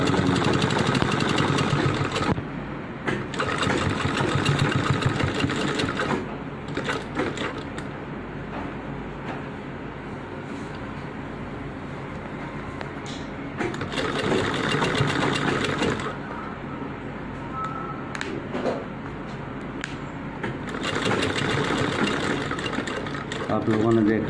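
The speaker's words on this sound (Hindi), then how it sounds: "इस तरह से ऊपर से सिलाई मार के पूरा कर लेंगे।" An electric sewing machine stitching the hem of a pair of jeans, whirring in several close bursts of a few seconds each with quieter pauses between, while a person talks in the background.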